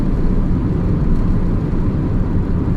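A Nissan Micra K12 with a 1.2 litre engine pulls under acceleration, a steady low engine drone and road rumble heard from inside the car, without talk.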